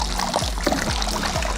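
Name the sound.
stirring home brew beer in container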